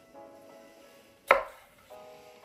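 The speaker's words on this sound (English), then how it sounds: "get some tomatoes. And these you can kind of just slice" A knife slices once through fresh tomatoes on a board while they are cut into chunks for American goulash. It is a single close, crisp cut between quiet stretches.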